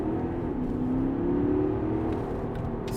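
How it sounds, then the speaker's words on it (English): A Porsche Panamera 4S 4.0 bi-turbo V8 revs up loudly in manual mode, its pitch climbing steadily then easing slightly, a strong close-up growl with no speech. "I think if you put it into manual, get it up on revs."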